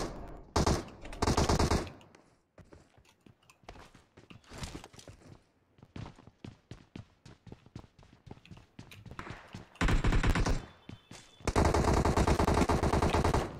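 Gunfire in the PUBG Mobile video game, dense rapid bursts of automatic shots that come near and loud at times, with stretches of quieter single shots and clicks between them.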